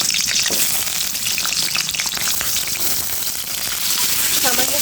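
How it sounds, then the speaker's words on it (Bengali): Potatoes frying in hot oil in a pan on the stove, a loud dense continuous sizzle with crackling spatter throughout, close and unbroken. "তেলটা গরম হয়ে গেছে, আলুগুলো হালকা একটু ভেজে নেব"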